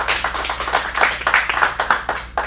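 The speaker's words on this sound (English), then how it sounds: "Let's get an extra round of applause one more time for his first month as well." Audience applause at a kids' acting showcase in Phoenix, a steady round of clapping from a small crowd, close and lively for a couple of seconds with individual hand claps standing out.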